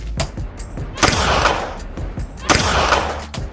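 Two sharp, loud rifle shots crack about a second and a half apart during precision sniper-style shooting by a female special forces member, each followed by a booming reverberant tail over a steady background rumble.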